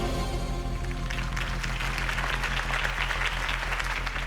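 A crowd applauds after Harvey Dent's campaign speech in the Telltale Batman video game, a dense, steady wash of clapping that swells slightly and holds throughout over a low background hum.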